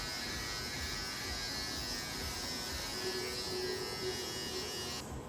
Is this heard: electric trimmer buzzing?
yes